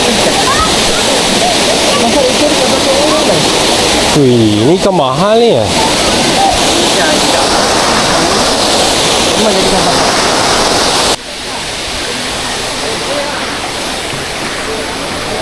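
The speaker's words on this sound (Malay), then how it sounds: "Aku rasa tu air sungai." A river flows and rushes loudly and steadily, close by, with people's voices talking over the water noise.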